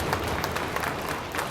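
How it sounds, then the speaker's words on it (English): A crowd applauds at a girls' U19 ice hockey game in an arena, steady clapping filling the space at moderate loudness. "amongst the applause of the crowd"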